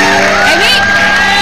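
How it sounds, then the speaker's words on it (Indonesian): In an Indonesian television comedy studio, the audience gives a brief, loud burst of shouting and cheering lasting just over a second. "Tepuk tangan dong untuk Ki Joko Bodo yang ada juga."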